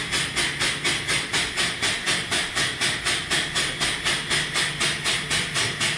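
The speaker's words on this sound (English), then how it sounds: "And it's pumping." An air pump works in a fast, even rhythm of hissing strokes, about three per second, loud and close with a steady breathy pulse and no talking.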